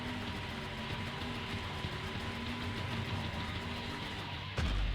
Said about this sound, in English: engine's really rough.